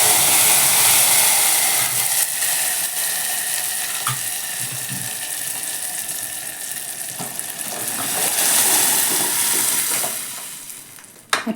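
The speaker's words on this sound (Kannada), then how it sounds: "ಇವಾಗ ಬೇಳೆ ಹಾಕ್ಕೊಂಡೆ" Cooked lentils are poured into a hot tempering for bele sambar, a loud, dense, steady sizzle and crackle that swells again near the end and then cuts off sharply, heard up close.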